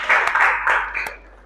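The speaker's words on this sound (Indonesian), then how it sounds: "Berikan tepuk tangan untuk kelompok 3." Classroom applause for a student group after their presentation, a short burst of loud, dense clapping from a small crowd that fades out toward the end.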